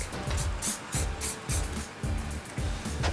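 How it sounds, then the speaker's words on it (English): Hairspray hisses from an aerosol can onto hair in a barbershop, a series of short close bursts in quick pulses. "I'm going to put a little bit of hairspray"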